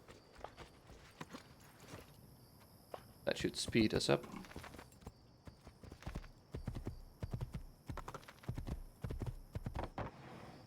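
Horse hooves clip-clop in a steady walking rhythm in the video game Assassin's Creed II, with a brief louder burst of trotting, while someone talks over the top.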